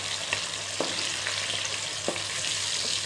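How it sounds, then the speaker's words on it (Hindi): Chopped garlic and ginger fry along with onions in a pan, a continuous dense sizzle close by, punctuated by several light stirring taps. "इसको हम प्याज के साथ ही फ्राई कर लेंगे।"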